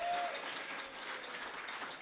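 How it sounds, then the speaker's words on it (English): Steady crowd applause at a celebration of life, a dense wash of clapping from many hands that holds evenly at moderate volume throughout. "One more time, a round of applause for these guys right here."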